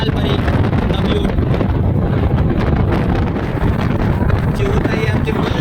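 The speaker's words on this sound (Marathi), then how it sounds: "आता इथे पाऊस पडून गेलाय. गारगार वारा सुटलाय." Cold wind after rain roars against the microphone of a Hero Splendor motorcycle rider heading toward Savdav waterfall, a loud, constant buffeting rush with a voice speaking underneath.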